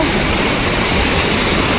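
A waterfall at Araku roars as a steady, loud, broadband rush of falling water. It is close and continuous, with no break and no other sound standing out.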